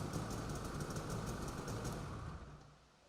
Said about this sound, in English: Restart the engine, and ensure the engine turns off when the ignition switch is turned off.